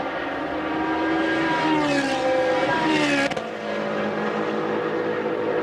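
A Trofeo Pirelli race car laps Monza, heard from a camera mounted on the splitter. The engine note rises and falls through loud, close revs and gear changes, with no voices.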